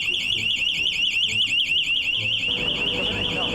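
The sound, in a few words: fire alarm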